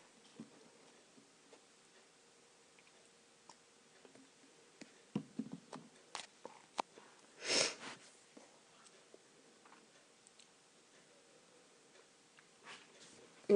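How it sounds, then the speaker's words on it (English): Sniffling from a person with a runny nose, a few brief nasal sniffs scattered through a quiet indoor scene, one louder snort-like sniff standing out midway, otherwise faint ticks and low background hum. "Sorry for my sniffling."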